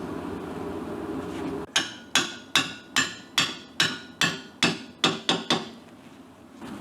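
A hammer taps a Tiger Cub muffler end cap in a workshop, about a dozen sharp metallic knocks at a fairly even pace, each ringing briefly before decaying, following a second of quiet background hum.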